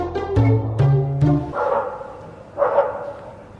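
A neighbor's dog barks three times in quick succession at a distance, then gives a couple of softer, muffled barks after a pause.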